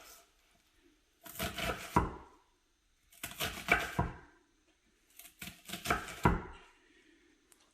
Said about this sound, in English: chop the onion appropriately sized